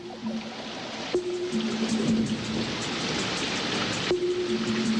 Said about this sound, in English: Wildebeest, Grant's gazelle, lion, all soak in the cool rain.